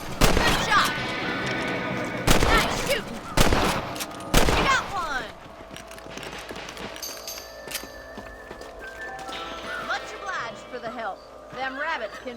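A rifle fires at rabbits in the video game Red Dead Redemption on Xbox Series S, with a rapid cluster of sharp, loud shots early on that give way to quieter outdoor game ambience.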